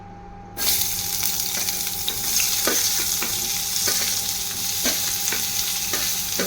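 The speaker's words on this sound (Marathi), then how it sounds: "याच्यावर आता कांदा टाकून घेऊया." Chopped onion drops into hot oil with a sudden loud sizzle that settles into steady frying, marked by occasional scraping strokes of a spoon stirring in a pan, while preparing a Maharashtrian Bhogi mixed-vegetable dish.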